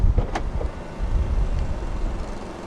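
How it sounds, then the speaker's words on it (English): A 2018 BMW X3 xDrive30i's doors lock with a touch on the keyless door handle: one short, sharp click near the start, then steady outdoor wind and low rumble. "To lock the car, press the ribbed area on any of the four door handles."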